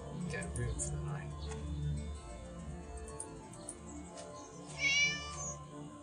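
A cat meows several times over game music and ambient background in Divine Divinity, with one clearer, brighter meow near the end standing out above the steady underlying sound.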